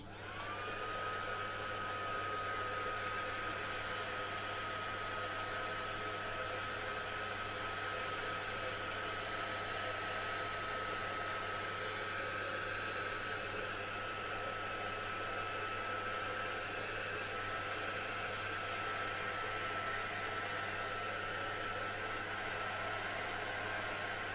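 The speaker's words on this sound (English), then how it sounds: "my heat gun's about to come on" A heat gun blows steadily for embossing heat setting, a loud continuous whooshing drone with a whining motor tone that holds unbroken throughout, with no talking.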